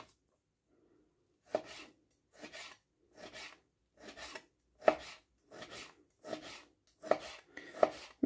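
Knife slicing pork tenderloin into thin strips on a cutting board: a series of about nine evenly spaced, crisp cuts, each a short rasping slice ending in a board tap, close and clear with silence between.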